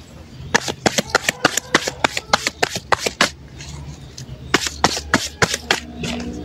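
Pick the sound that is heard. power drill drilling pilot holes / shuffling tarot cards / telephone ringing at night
shuffling tarot cards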